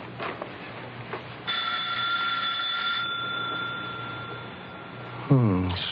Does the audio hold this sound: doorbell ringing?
yes